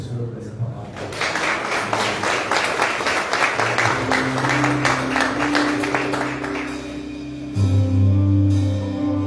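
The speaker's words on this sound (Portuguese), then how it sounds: "Vamos aplaudir o Senhor por essa palavra." A church congregation applauds in a burst of clapping after the sermon, with musical instrument tones and voices underneath, before the clapping fades into music.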